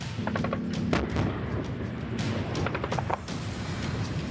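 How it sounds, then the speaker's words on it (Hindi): Ukrainian army artillery cannons fire shells during a ground-forces exercise near the Belarus border, with loud, sharp repeated blasts and rumbling reports in close succession and no speech. "यूक्रेन के तोप ये गोले बेलारूस से लगने वाली सीमा के काफी करीब बरसा रहे हैं"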